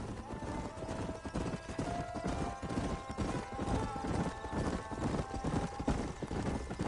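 Horses trot with steady clip-clop hoofbeats in the Red Dead Redemption video game, loud and continuous across the whole clip over a busy game soundscape, with a faint whinny mixed in.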